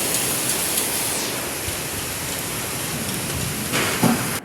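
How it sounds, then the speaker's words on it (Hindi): Heavy rain pours down in a dense, continuous hiss, steady and loud throughout with no voices. "देखो कितनी खतरनाक बारिश हो रही है"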